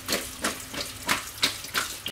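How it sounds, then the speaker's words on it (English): Tap water running over sliced potatoes being rinsed of starch in a sink, a series of rhythmic splashing surges about every third of a second, close and alone. "Now you're going to rinse the slices."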